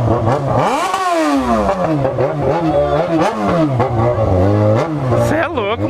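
Naked motorcycle, a Yamaha XJ6, revving hard in repeated bursts, each rev cut sharply by pulling the clutch, loud and close, with a voice talking over it.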